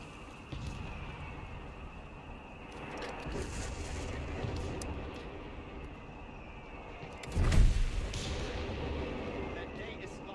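Artillery booms and gunfire rumble from the video game Company of Heroes 3, with a sustained battle din, one heavy blast standing out midway, and a voice talking over it.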